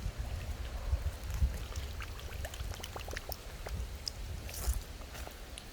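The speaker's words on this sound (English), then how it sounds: "So I'm just going to run some cold water through it" Cold water runs steadily through a hose or line into a sink during a home hot-water smell fix, a continuous splashing trickle with scattered drips, close and fairly quiet, without talk.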